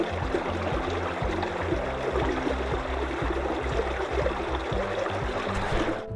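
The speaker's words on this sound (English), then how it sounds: "There's a little river." A small river flowing in a calm nature preserve, a steady even rush of water with a low rhythmic hum running underneath, no voices.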